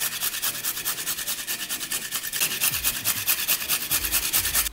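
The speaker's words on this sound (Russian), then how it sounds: "Добавляю на 2 килограмма 3 зубчика чеснока через мелкую терку." Garlic cloves are rubbed quickly against a fine grater in a kitchen, giving a steady rhythmic rasping of short back-and-forth strokes, close and clear with no talking.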